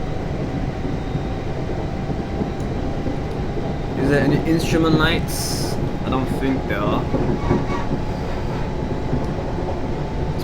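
An old passenger train at full throttle in Train Simulator 2018, a steady low engine rumble and rolling drone with some higher squeals midway, heard under someone talking.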